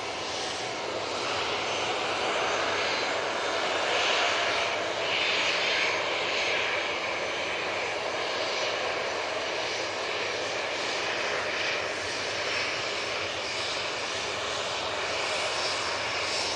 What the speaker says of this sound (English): So this is the Ryanair to Gdansk. (737-800).